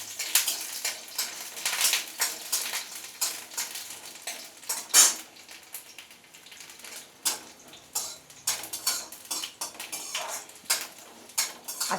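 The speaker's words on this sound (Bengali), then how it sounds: "রসুন ভেজে নিচ্ছি।" Seven or eight garlic cloves frying in oil in a kadai, with near, steady crackle and repeated metallic clinks and scrapes of a utensil against the pan, no voices.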